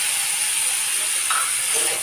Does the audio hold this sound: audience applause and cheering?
no